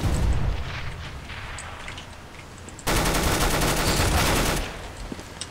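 Sustained automatic gunfire in Counter-Strike: Global Offensive, a fast P90 burst lasting about two seconds that rings out loud and close after a quieter stretch of game ambience and distant shots.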